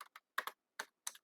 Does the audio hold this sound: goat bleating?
no